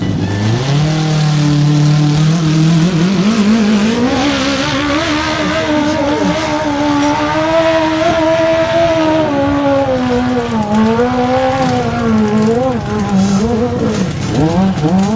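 Motorcycle engines in a hill climb race, a loud continuous high revving drone that rises and wavers as the bike strains up the slope, close and dominant throughout.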